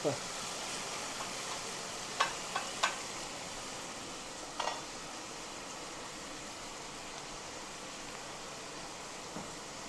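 Tomatoes, pimentos and hot pepper sizzle steadily in a pan, with a few sharp clinks of a utensil against it.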